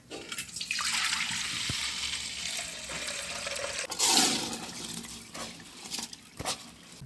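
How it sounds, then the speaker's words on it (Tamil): Soaked rice poured into a pot of boiling water for mushroom biryani: a sustained rushing, bubbling water sound at close range, then a splashy pour and a few clatters near the end, with no talk. "அரிசியை அள்ளி போட்டுக்கலாம்"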